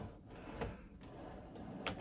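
A custom-built pull-out drawer slides open inside an RV, with faint soft scrapes and a couple of light knocks over a quiet room background.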